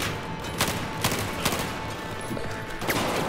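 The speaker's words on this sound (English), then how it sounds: "This is so much better when you've got a gun that has range" Several sharp gunshots in the video game Battlefield 4 during a campaign mission in mountains, spaced irregularly over a dense, busy background of battle noise.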